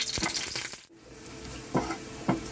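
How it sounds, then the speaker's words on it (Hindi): Garlic frying in two spoonfuls of cooking oil for potato cheese balls, giving a soft steady crackle with a few sharper clinks of a spoon against the pan, close and fairly quiet, no talking. "थोड़ा सा लहसुन को फ्राई कर लेंगे इसमें"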